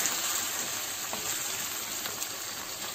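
Chicken frying in oil with ginger garlic paste for a yogurt chicken karahi, heard as an even, steady sizzle that stays close and unbroken throughout.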